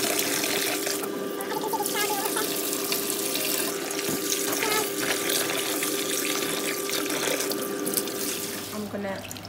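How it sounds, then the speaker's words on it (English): Rice being washed under a running tap in a sink, a steady close rush of water with faint swishing and splashes throughout. "Before boiling the rice, I'm going to wash my rice, make sure it's nice and clean."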